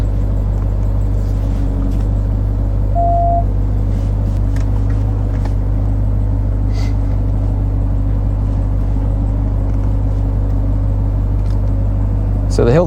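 A 2021 RAM TRX pickup crawls downhill over big rocks, producing a constant deep engine and tire rumble with occasional knocks, while a person talks over it throughout.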